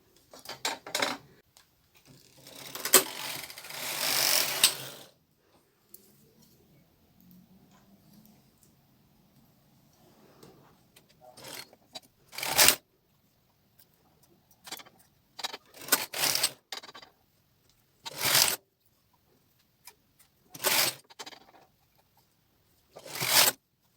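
A Brother hand knitting machine making a seamless child's sock: the carriage sweeps across the needle bed in several short, sharp rattling passes separated by quiet pauses, one longer clattering run early on.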